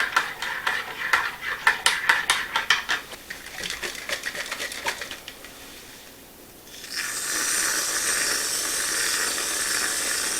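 Crushed candy cane being stirred into a bowl for a peppermint treat: a run of sharp clinks and scrapes for several seconds, then a steady hiss takes over near the end, no voices.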